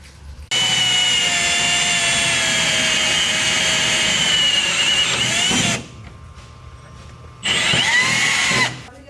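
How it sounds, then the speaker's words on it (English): A power drill whines steadily at high speed while boring a small pilot hole, loud and close for several seconds, stops briefly, then spins up again for another short run. "Now that I just drilled out my little pilot hole there"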